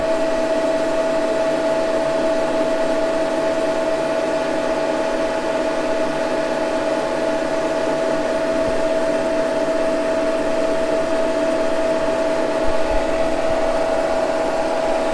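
A Wohlhaupter UK4 rotary taper-cutting head takes a light cut on a milling machine, giving a steady loud mechanical whine with a sustained tone and constant broadband hiss throughout, with no voices.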